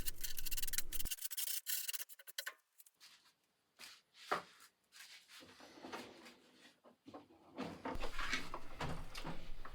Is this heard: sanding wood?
yes